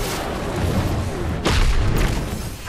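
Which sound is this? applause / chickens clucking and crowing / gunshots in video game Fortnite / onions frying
gunshots in video game Fortnite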